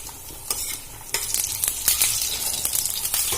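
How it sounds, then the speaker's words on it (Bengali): Two dried red chillies and panch phoron spices sizzle loudly in hot oil, with crackling pops and the scrape of stirring close up. "তেলটা গরম হয়ে গেছে, আমি দিয়ে দেবো দুটো শুকনো লঙ্কা আর একটু পাঁচ ফোড়ন।"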